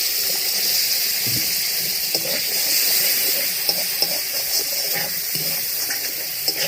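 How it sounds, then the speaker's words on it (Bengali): A little water goes into a pan of spiced fish head and cabbage cooking over a wood fire, giving a steady hissing sizzle with small bubbling pops throughout. "গুঁড়ো মশলা দিয়ে ভালো করে কষলাম, অল্প একটু জল দিচ্ছি।"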